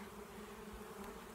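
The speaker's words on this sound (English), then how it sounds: "there's still quite a few bees up here" Bees from a swarm buzz around a bee box, a steady faint droning hum with no voices.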